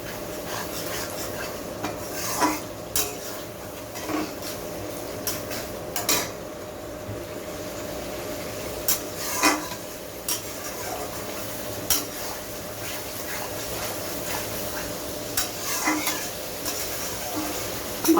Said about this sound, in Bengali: মশলার কাঁচা গন্ধ না যাওয়া অবধি এটাকে কষিয়ে নিতে হবে।